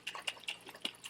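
Bottles holding hard and soft water with soap are shaken, giving quick irregular sloshing and splashing bursts, close and fairly faint, with no talking.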